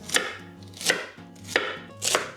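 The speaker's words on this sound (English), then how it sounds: "So you can just go and cut out the core." A knife cuts the core out of a fennel bulb on a board, giving four crisp chopping knocks at a slow, even pace, close and clear with no speech.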